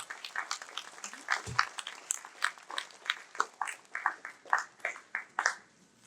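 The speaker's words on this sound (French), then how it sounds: "Applaudissez-la fortement." Audience applause at a pharmacy graduation ceremony, a standing ovation in a hall: scattered, uneven clapping with distinct individual claps rising and falling over several seconds, moderately loud and somewhat sparse.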